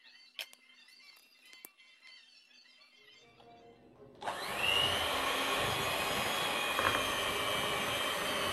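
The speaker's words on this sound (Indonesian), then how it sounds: "Mixer dengan menggunakan kecepatan sedang aja ya teman-teman." An electric mixer at medium speed churns cake dough, switching on about halfway through after near silence and then holding a loud, steady whirring drone to the end.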